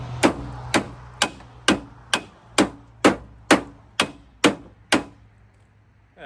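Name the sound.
hammering a truck fender with a hammer and washer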